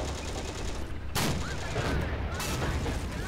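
Tank cannon fire in the WWII tank sim Steel Fury, Operation Barbarossa setting: a sharp loud blast about one second in, followed by another shot, over a steady rumble of engine and battle noise with someone talking.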